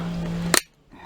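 A steady hum cut off by a sharp, brief click as a motorized bike part snaps into its groove, followed by quiet.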